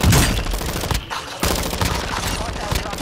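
Heavy shotgun blasts boom in Call of Duty: Modern Warfare II, several loud close shots one after another with only a short lull between them.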